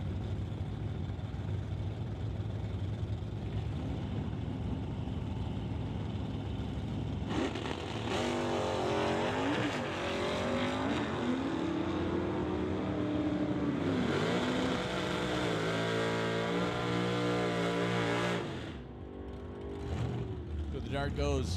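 A Dodge Dart and a Mustang launch side by side at an old-time drag strip. A steady engine drone builds into a loud roar of two cars accelerating hard, then fades, with an announcer talking throughout.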